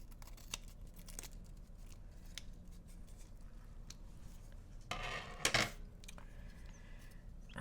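Scissors snip through aluminum tape in one short, crisp cut with a brief metallic crinkle, heard close up against a quiet room with no talking.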